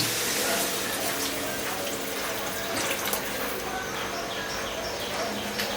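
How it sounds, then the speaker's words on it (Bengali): Warm water is poured into a pot of cooking khichuri made with gobindobhog rice. It makes a continuous close splashing gush that fills the whole clip, and faint bird calls sound in the background. "গরম করে রেখেছি ঢেলে দিলাম উষ্ণ গরম জল চলে গেল এখানে"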